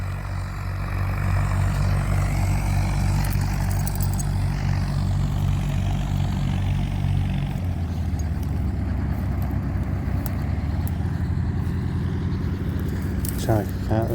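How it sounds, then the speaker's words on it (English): A helicopter gathers speed for takeoff at Barton Aerodrome on a busy day, its engine and rotor giving a loud, steady droning rumble that shifts pitch partway through, with people talking nearby. "This helicopter's getting some speed up."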